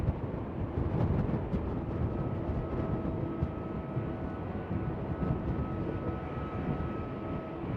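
A German Airways jet in chocolate livery takes off at Schiphol Amsterdam, its engine roar steady and loud, mixed with wind rumble across the whole stretch.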